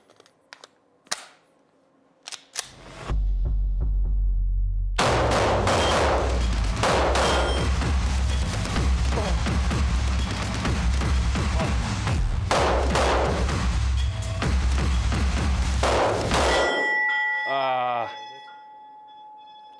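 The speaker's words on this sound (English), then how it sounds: "We managed to fix the pistol and time to fire it again." A repaired pistol is fired at a target in a rapid run of sharp, loud shots lasting over ten seconds, preceded by a few isolated clicks and knocks and followed by a quieter tail.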